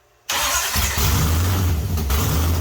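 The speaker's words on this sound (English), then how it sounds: "let's see if we can get started again" A Mopar 340 small-block Chrysler V8 with a tunnel ram and roller cam, one plug wire swapped in its firing order, fires abruptly after silence and settles into a loud, lumpy, rough idle that carries on to the end, close by, with no talk.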